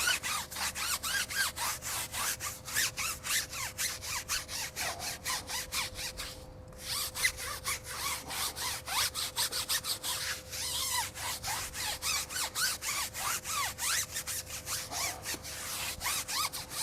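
A brush scrubbing the dirty tires of a 2022 Ford F150 Platinum, close and steady, in rapid back-and-forth rasping strokes with one short break.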